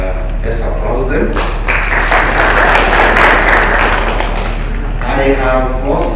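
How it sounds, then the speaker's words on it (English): An audience applauds a scholarship program team at a ceremony, a swelling wave of clapping that builds in the middle and tapers off, with a voice speaking over it at the start and end. "Let's applaud them."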